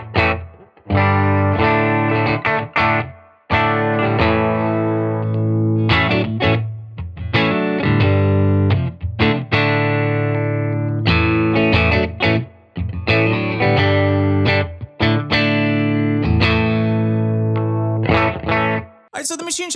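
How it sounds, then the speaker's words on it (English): A custom Clydesdale electric guitar runs through a Karma Amps Machine Shop dual overdrive into a Silktone amp, giving loud, crunchy distorted chords and riffs with brief gaps, played close and without talk. "I'm running into a Silktone amp."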